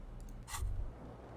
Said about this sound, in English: Keys are clinking in the pocket of your flare-cut pants.